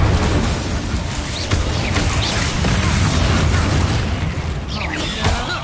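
Bombarda blasting spell explodes in Hogwarts Legacy combat, loud booming bursts layered over constant dense game noise with no pauses.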